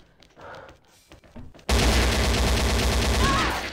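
An AK rifle fires in the shooter game XSHOT: after a quiet stretch with a few soft clicks, a loud, sustained burst of rapid automatic shots erupts and continues for about two seconds.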